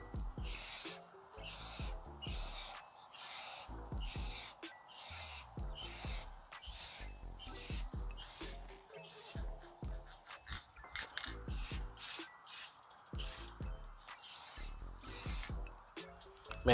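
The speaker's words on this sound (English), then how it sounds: "let's go ahead and see if we can squeeze out this last coat here on the gloss clear." Rust-Oleum gloss clear coat sprayed from an aerosol can onto restored car headlights, heard as repeated short hissing bursts with brief pauses between them, each burst close and loud.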